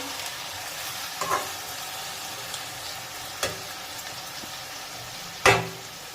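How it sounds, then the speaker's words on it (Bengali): Continuous sizzling of small fish curry in a frying pan, close up, broken by a few sharp scraping stirs and a louder crackle near the end as a little water is added. "সামান্য একটু জল দিয়ে দিচ্ছি।"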